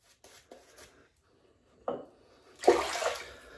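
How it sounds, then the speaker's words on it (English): Water splashed from a tap onto shaving soap, with a few soft taps and handling sounds first, then a short burst of pouring and a longer running splash at the end, close and fairly quiet. "You can add a good bit of water to this."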